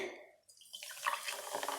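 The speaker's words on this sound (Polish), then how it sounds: "Teraz lewamy tutaj wodę." Water poured into a container while making homemade Sprite, a short splashing pour that starts after a brief silence and keeps running with a bright, bubbling rush.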